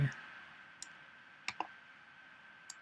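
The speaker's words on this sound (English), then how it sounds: "And then we'll just click, and then click and drag" A computer mouse clicks a few times, faint and sparse, while drawing in Adobe Illustrator, with a soft electrical hum underneath.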